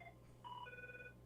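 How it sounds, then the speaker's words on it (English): A telephone rings with an incoming call during a comedy show, giving a brief electronic ringing tone with steady harmonic pitches over a low constant hum, moderately faint. "We got a phone call coming in."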